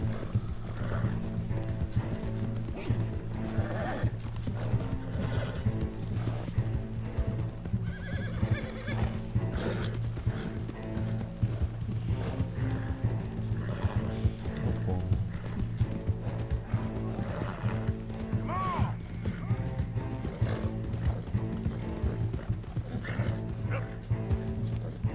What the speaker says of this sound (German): Hoffentlich hält das Pferd es durch